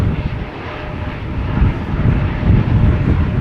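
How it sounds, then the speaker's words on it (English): An Embraer 175 jet airliner at Schiphol Airport, a loud, steady engine roar with a low rumble, continuous and swelling slightly, with no voices. "Right, we have another Embraer 175 over here."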